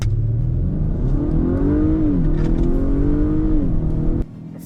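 Lincoln Corsair SUV launching in a drag race, its engine revving up through a gear shift with a rising whine, loud and close, then dropping off sharply at the end.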